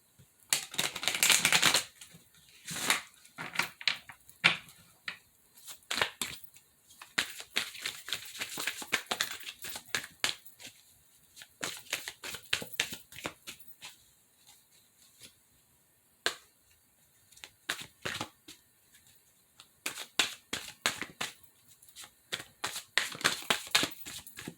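A deck of native spirit oracle cards is shuffled by hand in repeated quick bursts of riffling and tapping, close and fairly quiet, alone without talk.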